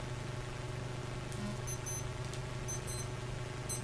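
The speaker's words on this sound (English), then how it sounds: "Turn off my watch alarm" Short electronic beeps from a wristwatch alarm in groups of two or three, going off amid steady background rumble and hiss during a police video game set at an apartment complex.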